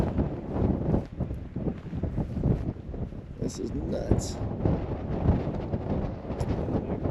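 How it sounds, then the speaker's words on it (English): Strong, gusty wind blows at a Texas long-range shooting facility in constant 20 mph winds, a loud rumbling roar battering the microphone throughout while someone speaks briefly. "It is super windy."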